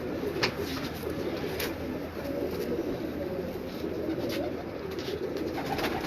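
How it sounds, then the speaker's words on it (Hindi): A pigeon coos softly in a bird gallery against a steady ambient hiss, its low murmuring calls faint and continuous, with a few sharp clicks scattered through. "बहुत अच्छा कबूतर है जी"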